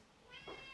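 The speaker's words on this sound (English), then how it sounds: "Yeah, that is my cat. You can hear my cat." A pet cat meows once at a door, a short rising-and-falling call heard fairly close against a quiet room, with no one talking.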